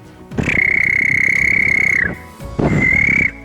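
A frog gives two loud, close, trilling croaks, the first long and the second shorter, separated by a brief pause.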